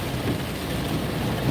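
Heavy rain and wind noise fill the inside of a car on a freeway during a thunderstorm, a steady loud wash of broadband noise throughout with no clear thunder crack standing out.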